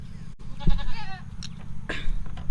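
Goats in a farm pen give several close, wavering bleats, one long quivering call followed by a shorter one, over low steady background rumble.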